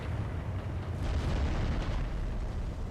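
An enemy sniper in the video game Dark Souls 3 fires with a heavy, sustained booming rumble that swells and stays loud throughout, with no talking over it.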